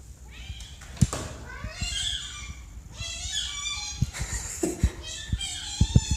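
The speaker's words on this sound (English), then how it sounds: "This cat sounds exactly like a squeaky toy." A cat gives several high, squeaky meows that rise and fall like a squeeze toy, repeated close by in quick succession with a few soft thumps between them.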